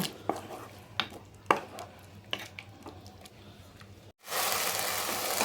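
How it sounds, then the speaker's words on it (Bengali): Ginger-garlic paste stirred and sautéed in a pan, with a few sharp spatula knocks and scrapes against the metal, then a sudden loud, steady sizzle. "এখন আদা রসুনটাকে এর সঙ্গে ভালো করে মিশিয়ে একটু কষিয়ে নেব।"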